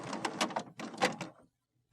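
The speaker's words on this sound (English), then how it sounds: "Wait for the printer to turn on and stop making noise." An HP Photosmart 5510 e All-in-One printer powers on with a run of close mechanical whirs, clicks and shuffling carriage movements, then goes briefly quiet before one more short burst.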